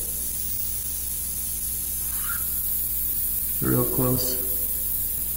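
An airbrush spraying skin-tone paint onto a mural at a very low airflow, a thin, steady hiss running throughout, with someone briefly speaking over it partway through.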